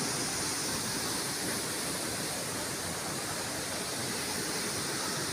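Ilıca waterfall in Kastamonu, Turkey, roars as a steady, loud, broadband rush of falling water that fills the whole clip without a break and without any voices.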